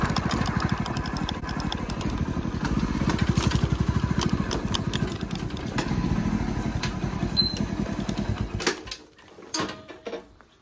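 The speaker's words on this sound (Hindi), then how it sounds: "खेत में अपना ट्रैक्टर आ चुका है" A tractor engine runs steadily out in a farm field during a groundnut harvest, a loud close chugging drone that drops away sharply near the end, leaving quieter knocks and rattles.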